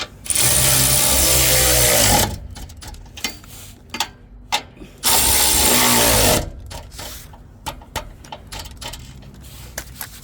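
Power tool tightening bolts on spoiler bar brackets of a new next-generation Ford Ranger, two loud sustained whirring bursts separated by metallic clicks and handling knocks, close up.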